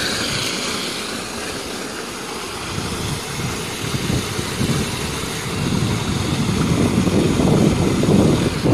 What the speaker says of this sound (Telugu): ఇది కరెంటు మోటారు